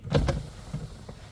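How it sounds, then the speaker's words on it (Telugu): Manual crank rear window of a 2020 Maruti Alto VXi petrol car being wound: a couple of quick, close scraping and squeaking strokes followed by a fainter one, with no voices. "బండికి వెనకాల మాన్యువల్ విండో ఉంటుంది సార్ తిప్పేది"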